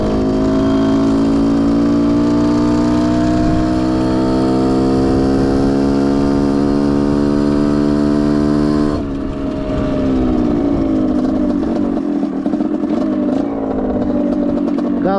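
A Rieju motorcycle engine runs loud and close, holding a steady rising drone with strong harmonics before dropping into rougher, uneven revving and clatter on a village road.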